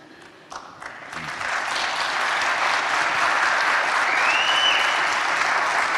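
Audience applause breaks out at a political forum in a conference hall, starting with a few scattered claps and quickly swelling into a full, sustained ovation.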